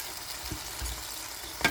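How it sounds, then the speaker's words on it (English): Steady soft sizzling of chicken wings cooking in an air fryer, with a faint fan hiss and a few small clicks and knocks. "air frying on the other side."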